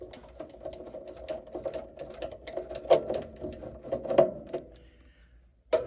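Rapid ratcheting of bolts being backed out of a Lennox ECM furnace blower housing, a busy clicking rattle running for several seconds, close and moderately loud, with a few heavier metallic clunks and a sudden stop near the end.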